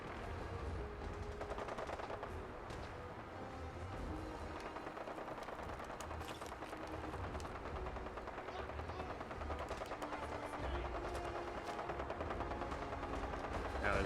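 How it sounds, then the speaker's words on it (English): Video game gunfire in Fallout 4: bursts crackle repeatedly at a distance, rapid volleys layered over a steady background din, faint and continuous. "There's a lot of gunfire not far away."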